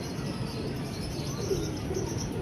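A pigeon coos faintly, with soft low calls barely standing out against a steady wash of outdoor wind and rain noise.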